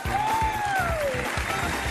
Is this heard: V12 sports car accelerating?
no